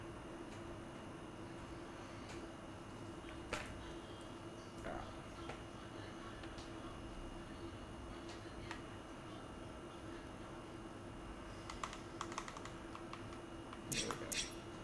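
Quiet, steady typing on a computer keyboard, scattered key clicks with a brief flurry toward the end over a low background hum.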